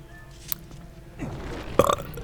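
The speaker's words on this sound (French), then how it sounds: "Je suis désolé, mais le temple me fait roter." A single loud burp from a player during a Zelda: Twilight Princess HD session, sounding over faint background game music and a brief click.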